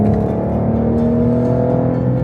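A Porsche Cayenne with a 3.6 liter VR6 and Tiptronic gearbox pulls hard under acceleration, a loud, continuous engine drone heard from inside the cabin, with no talking.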